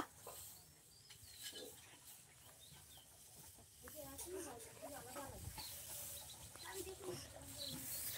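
Fighting chickens are carried in a bag, giving scattered faint clucks and rustling, with people talking close by throughout.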